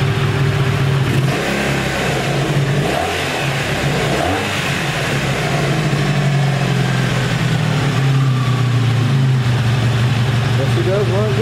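A 1984 Honda Saber VF700S motorcycle engine idles steadily and loudly for several seconds, a continuous rumbling drone with slight rises in revs, with someone talking over it.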